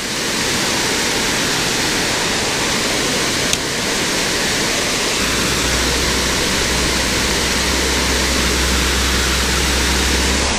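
A small waterfall on an Ohio creek roars as a dense, continuous rush of water, loud and close, holding steady throughout with a deeper rumble joining partway through.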